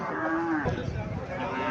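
A calf at a busy cattle market lets out one clear, drawn-out moo, close and loud, over a crowded background murmur of voices.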